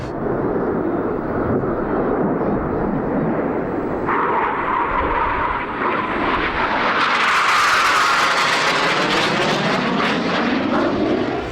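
An aerobatic jet performing slow and four-point rolls at the Jersey airshow, a loud continuous engine roar that swells and shifts pitch as it passes overhead, with a rising whine in the second half.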